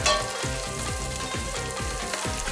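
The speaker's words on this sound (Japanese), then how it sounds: "まずはじゃこを軽く炒めて香りを引き出す。" Small dried sardines (jako) fry in a generous amount of oil in a Teflon pan, giving a steady, close sizzle over background music.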